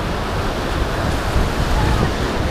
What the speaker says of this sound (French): Mais il y a pas mal de vagues, hein.